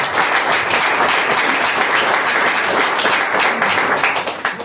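A church congregation bursts into loud, sustained applause, dense clapping that holds steady from start to finish and thins slightly as it ends.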